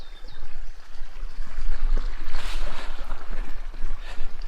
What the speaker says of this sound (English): Got a little creek crossing.